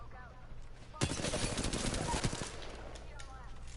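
Rapid gunfire in a tactical shooter game starts abruptly after a quiet moment and rattles on as a steady, moderately loud burst before thinning out, with faint voice chatter around it.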